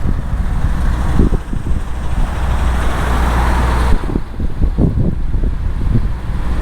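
Steady road rumble and wind buffeting from a truck towing a strapped-down trailer at highway speed, loud and continuous with low engine drone throughout.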